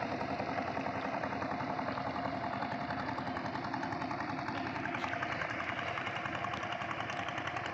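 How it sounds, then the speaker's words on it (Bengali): A motor boat engine passes on the Jamuna River, a steady mid-pitched drone that holds at an even, fairly close level for the whole stretch with no talking. "নৌকা চলে গেল।"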